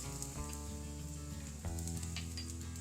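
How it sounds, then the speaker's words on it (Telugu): Urad dal frying with finely chopped green chilli and ginger in a little oil, a low, continuous sizzle over a steady musical hum in the background. "మినప్పప్పు మంచిగా దూరగా వేగాలి"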